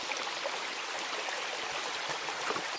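Forest brook flowing past huge spruce trees, a steady, close rushing and gurgling of water that holds at an even level throughout with no voices.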